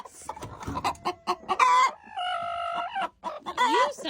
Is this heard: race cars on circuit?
no